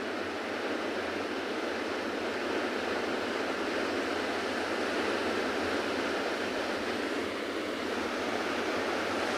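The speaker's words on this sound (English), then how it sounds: "Wonderful to watch and hear the sound of this ocean." Steady ocean surf rolls onto a South African beach during an afternoon safari, a dense continuous wash of breaking waves with some wind, with no voices.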